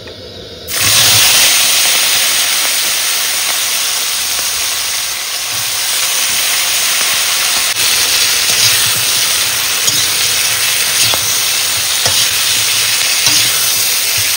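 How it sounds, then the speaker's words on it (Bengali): Cauliflower and potato pieces frying in hot oil in a pan outdoors on a Sundarban river trip, a loud, unbroken hissing sizzle starting abruptly and running steadily, with occasional faint stirring knocks underneath. "এবার প্রথমে ফুলকপি আর আলুগুলো ভেজে নেবো।"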